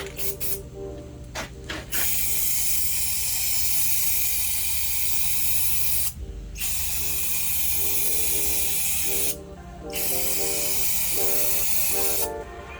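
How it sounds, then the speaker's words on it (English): Second coat of gloss black Plasti Dip peelable paint sprayed from an aerosol can: long continuous close hissing bursts with brief pauses between them, a faint mechanical clicking underneath. "here we go with the second coat of the gloss black"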